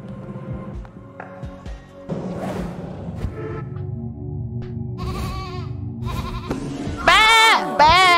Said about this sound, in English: You heard the sheep!